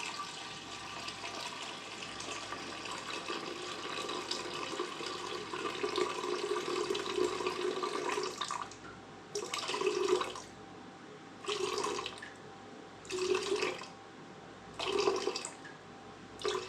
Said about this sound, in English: And I'm gonna do 1 kilo of water